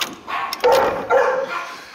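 Dogs let out a few sharp, close barks in quick succession, loud and brief, at a family home.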